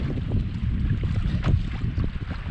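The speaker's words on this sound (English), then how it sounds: "It's a little windy today." Wind buffets the microphone on an Aruba 12 ss boat on Old Hickory Lake as rough waves slap the hull, a continuous close gusty rumble with irregular splashes and no voices.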